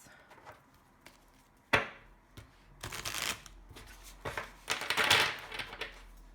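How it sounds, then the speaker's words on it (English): A Cat Land oracle card deck is riffle shuffled up close, with several quick, fluttering bursts of cards slapping together and short pauses between them. "You know, I like to riffle shuffle."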